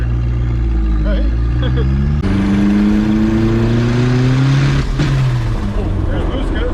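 A turbocharged Nissan Hardbody pickup engine revs up steadily, pitch climbing and holding as it hits boost cut, then dropping back; loud and close, with a brief stumble partway through.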